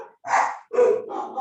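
A pet dog barks at home in a few loud, close bursts, the barks separated by short pauses.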